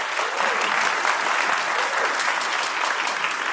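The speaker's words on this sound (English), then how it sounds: "Just one last round of applause." Dense, loud applause from an orchestra concert audience honoring two soloists, a continuous even roar of many hands clapping that fills the whole stretch.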